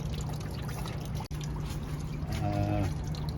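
Water from the drain cock of a Massey Ferguson 1135 tractor with a Perkins 6.354 engine pours and trickles onto a shop floor, a steady close stream with a brief bump partway through.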